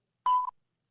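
A single short electronic telephone tone, the start beep of a phone call, a clean beep lasting about a quarter second, surrounded by silence.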